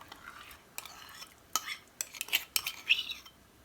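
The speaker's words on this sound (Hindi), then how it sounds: "योगर्ट को हमने चाशनी के अंदर मिक्स करते जाना है" A spoon clinks and scrapes against a pan as yogurt is stirred into boiling sugar syrup for kalakand, quiet intermittent metallic taps growing busier toward the end, with no voices.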